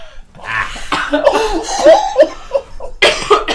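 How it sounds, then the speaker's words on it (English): Several close, harsh coughs mixed with breathy laughter, coming in uneven bursts before a final louder cough. "The laughter is going to make me cough"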